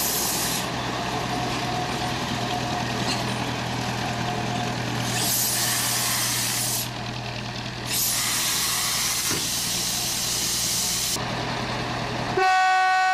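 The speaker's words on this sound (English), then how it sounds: "The tanks are shunted in the sidings next to the station." A steam locomotive shunts tank wagons in sidings beside a station on the Ribble Steam Railway. Long hissing blasts of steam or air rise and fall over a low rumbling engine, with a brief tonal sound near the end.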